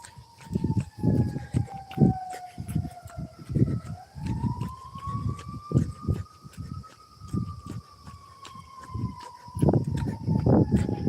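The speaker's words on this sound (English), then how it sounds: "Sounds like an ambulance or a fire truck." A wailing ambulance or fire truck siren rises and falls steadily in the distance during a jog, with irregular thumping and rustling noises close by throughout.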